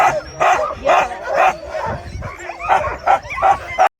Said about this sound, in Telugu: ఇలాంటి కోల్డ్ ప్లేసెస్లో యూజువల్గా అయితే అందరు హస్కీసే వాడతారు డాగ్ స్లెడ్జింగ్కి.